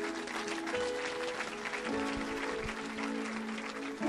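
Church congregation applauding during a French-language worship service, steady dense clapping filling the room with a sustained tone underneath and no clear talk.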